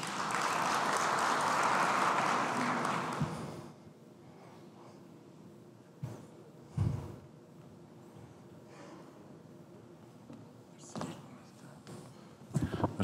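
An audience applauds at the opening of the DSI Forum in Tunisia, a dense burst of clapping that lasts a few seconds and then fades into quiet room noise with scattered rustles and breaths.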